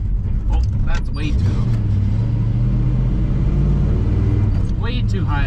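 An old Chevy squarebody pickup with an SM465 transmission and 4-ton gears pulls away while towing, its engine a loud, steady low rumble that holds close and constant throughout, with a voice briefly talking over it.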